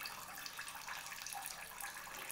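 A steady stream of water pours from a bottle in an artificial rain demonstration, a close, continuous splashing hiss with no pauses or voices.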